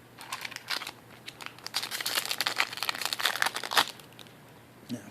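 A Magic: The Gathering Fate Reforged booster pack's foil wrapper crinkles and tears close to the microphone in a dense burst of crackling that lasts several seconds and then falls quiet, with no voices.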